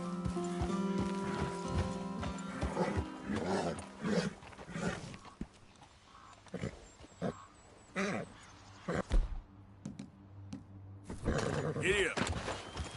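Hooves clip-clop from a horse in Red Dead Redemption 2, intermittent and mixed with game music, animal roars and a whinny, with voices talking over parts of it.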